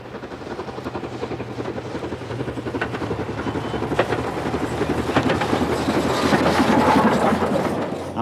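A steam train labours up Drumochter Pass on the Highland Railway through the Grampian Mountains, its rumbling engine and rhythmic wheel clatter building steadily louder as it draws nearer.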